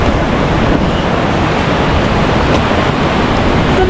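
Broadband wash of ocean surf rolling onto a fine-sand beach at Lingayen, steady and loud with some wind rumble across the microphone, no talking.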